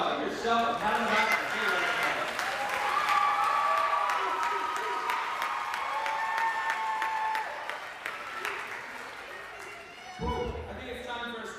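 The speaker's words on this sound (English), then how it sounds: "Let's give them one more round of applause." An audience applauds steadily at a school teacher-of-the-year event, dense clapping filling the room for about eight seconds before fading, then a brief burst of sound near the end.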